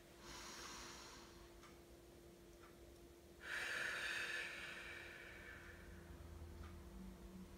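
A slow, deep exhalation during a relaxation exercise, a soft, breathy rush of air lasting a couple of seconds, heard close and faint against a quiet background.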